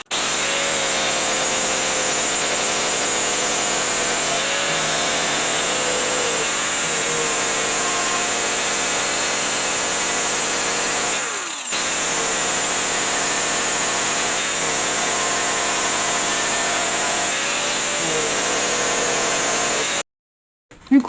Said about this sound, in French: on a meulé le rebord à 0